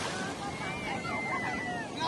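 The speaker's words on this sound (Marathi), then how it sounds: "मोठ्या मोठ्या लाटा येतात" Big ocean waves break and surge on a beach at Sindhudurg, a steady roaring wash of surf with wind buffeting the microphone, rising slightly louder at the end.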